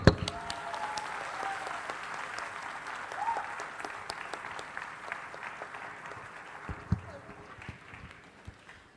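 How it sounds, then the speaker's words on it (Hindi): Graduates and guests at a medical convocation clap together in a room, a moderate, somewhat distant patter that gradually thins out over several seconds. "आज अपने लिए तालियां बजाओ."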